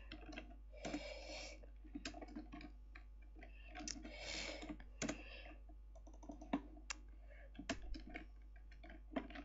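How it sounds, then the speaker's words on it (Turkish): Rapid clicking of computer keys during a Minecraft parkour game, in irregular bursts, fairly close and moderately quiet, with short pauses between flurries of typing. "klavyenin sesi çok geliyorsa kusura bakmayın"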